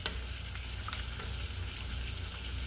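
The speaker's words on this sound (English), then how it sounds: "I'm gonna give my shrimp here a little toss" Shrimp sizzling in a frying pan with rosemary as they are tossed, giving a steady, fairly quiet crackling hiss with a few light scraping touches.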